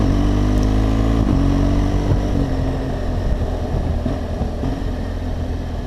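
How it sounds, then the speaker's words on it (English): A BMW R1200GS Adventure motorcycle runs steadily as the engine pitch climbs and drops through several gear changes, upshifts then downshifts, with a loud continuous drone and wind noise close up. "So here, if you listen, you'll hear some upshifts and then some downshifts."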